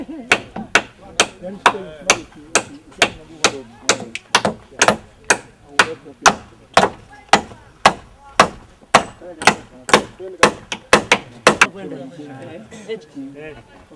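A hammer strikes wood in a steady series of about twenty-five sharp, loud blows at close range, roughly two per second, then stops as faint voices continue.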